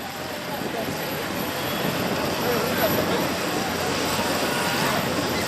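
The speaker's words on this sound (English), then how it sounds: "Yes, it is Michelle Ray driving this tractor, the John Deere 7930." A John Deere 7930 tractor pulling at a 22,000 lb class tractor pull, its engine a steady, loud broadband roar that swells slightly and holds for several seconds.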